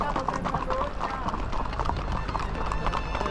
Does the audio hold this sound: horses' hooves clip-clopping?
yes